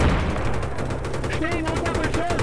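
Dense, continuous automatic gunfire and explosions from the video game Battlefield 3 roar throughout, with a chattering rapid-fire rhythm and occasional voices mixed into the loud battle din.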